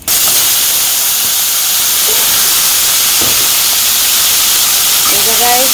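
Vegetables hit a hot pan with lightly fried fish and cumin, and a loud, steady sizzle and hiss fills the whole stretch, with a voice faintly audible under it.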